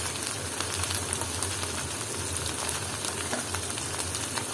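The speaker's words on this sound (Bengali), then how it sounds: "ভালো মতো পেঁয়াজের সাথে কষিয়ে নিব আমি মশলা" Spices and onions sautéing in a pan for a Bangladeshi dried lotia fish and jackfruit seed curry give a steady, dense sizzle that runs unbroken and fairly close, with no talk over it.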